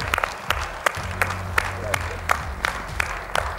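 Audience at an X Factor talent show applauds the guitarist of a band, a dense clatter of claps with sharp louder hits roughly every half second over a low steady rumble, mid-distance and lasting throughout.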